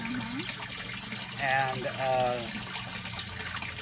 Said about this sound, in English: it creates a siphon and it siphons it empty to about a half an inch of water left in there